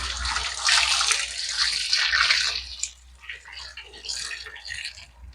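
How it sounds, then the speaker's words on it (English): Boiling water is poured over tomato seedlings, a splashing, gurgling stream that is strongest at first, then breaks into lighter, uneven trickles. "we'll pour some boiling water over that."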